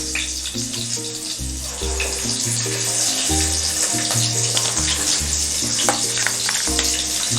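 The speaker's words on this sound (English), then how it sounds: "So I am going to fry it in lower heat." Crab sizzles steadily in oil over low heat, a continuous close frying hiss, with a recurring low tonal hum pulsing underneath throughout.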